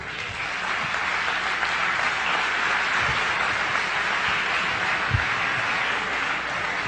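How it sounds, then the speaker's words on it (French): A lecture audience at a French-language health talk claps loudly and steadily, a dense uninterrupted roar of hands filling the room for several seconds. "C'est bien que vous applaudissiez"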